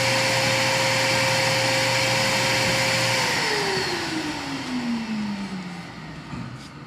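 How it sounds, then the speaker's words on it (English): Small electric air duster blowing in a workshop with a concrete floor, a loud steady whine that drops in pitch as it powers down over several seconds. "This little air duster is pretty awesome."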